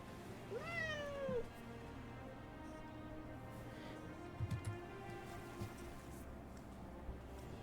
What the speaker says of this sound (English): You hear meows